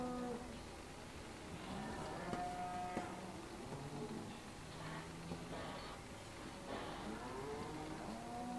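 Cattle moo repeatedly on a farm in the Farming Simulator 17 video game, several drawn-out low calls overlapping at moderate distance over faint background ambience.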